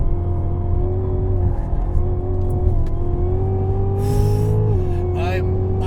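A 2016 Cadillac CTS-V engine holds a loud, steady drone close by as the car slides on a race track, its pitch rising slightly then dipping, with tire noise and a voice speaking over it.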